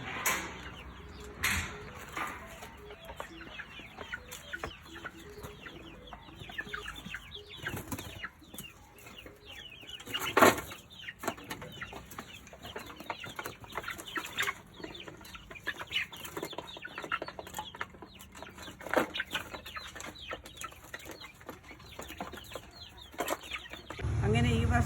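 Chickens cluck intermittently around a farm, scattered calls and soft fowl sounds rising and falling over a steady outdoor background throughout.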